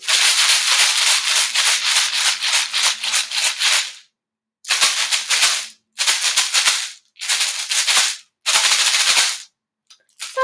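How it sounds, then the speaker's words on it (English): Rice rattles hard inside a plastic bottle in five bursts: one long shake, then four shorter ones separated by brief pauses, loud and close. "You have your instrument in a plastic bottle, and I have some rice"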